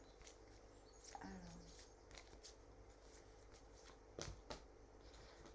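Tarot cards shuffled by hand in soft, quick riffling patter, fairly quiet against a steady background hiss, with a couple of brief louder clacks near the middle and end.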